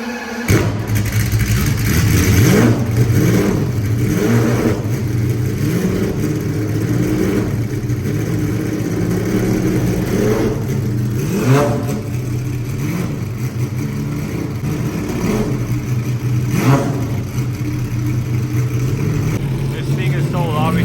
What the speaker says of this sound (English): trying to get into Zonda Revolution to rev it